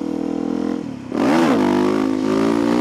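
A motorbike ridden along a road near home, its engine note steady and then revving sharply upward about a second in, loud and close with a droning, rising pitch.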